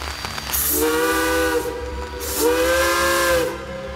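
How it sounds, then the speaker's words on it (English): Two blasts of the whistle on Jeddo Coal #85 steam locomotive, each a rising, hissing tone lasting about a second, sounding loud and close with steam hiss between. "this chain right here controls the whistle"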